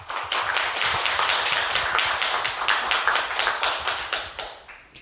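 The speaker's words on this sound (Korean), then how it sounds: "여러분 힘찬 박수와 함께 광주형 스마트 평생학습 릴레이 특강 시작하도록" An audience claps to open a lifelong-learning lecture series in Gwangju, producing vigorous, rhythmic applause from many hands that stays strong for several seconds before tapering off.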